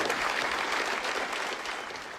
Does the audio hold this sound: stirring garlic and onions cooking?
no